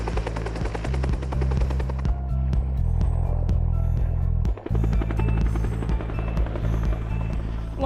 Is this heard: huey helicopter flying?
yes